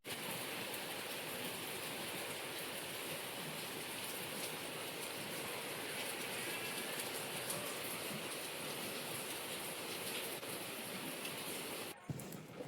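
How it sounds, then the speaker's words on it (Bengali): Steady rain falls outside, a soft continuous hiss of drops on surfaces that holds evenly throughout, with a brief knock near the end. "এই যে বাইরে বৃষ্টি পড়ছিল কেমন"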